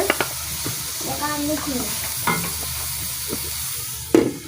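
Tomatoes and cabbage cook in a pan with a steady sizzle, while a spoon stirs and scrapes in a few distinct clinks and knocks, close by.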